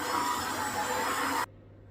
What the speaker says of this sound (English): Then I'm just going to mix again.